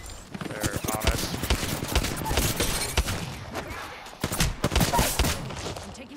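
Gunfire in a video game, with rapid bursts of shots rattling on almost continuously and close up, while a voice talks over them.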